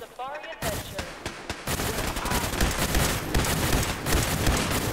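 Gunfire in the PC game Fallout 4 during Nuka-World combat: a loud, dense burst of rapid shots begins after a short quiet start and continues without pause as a near, sustained barrage.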